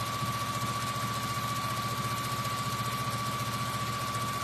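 A sewing machine runs steadily, stitching fabric pieces together with a fast, even mechanical pulse and a faint constant whine behind it; no voices.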